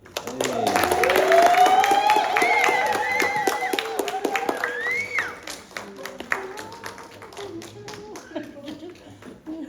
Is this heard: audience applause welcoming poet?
yes